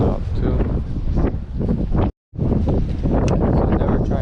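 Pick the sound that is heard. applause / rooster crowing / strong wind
strong wind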